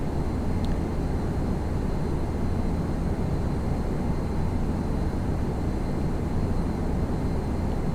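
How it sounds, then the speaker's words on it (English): A Cessna flies over in a flight simulator game, heard as a steady, continuous broadband engine drone that holds an even level throughout with no clear rise or fall. "Somebody going over in a Cessna"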